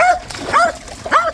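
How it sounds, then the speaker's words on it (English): A dog barking at bubbles outdoors, three sharp close barks with yips, evenly spaced over a second or so, loud and clear. "Max, what are you barking at?"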